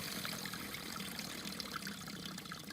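Faint, steady trickle and splash of water from a garden hose pouring into a lawn drain box, a continuous gentle wash with no voices.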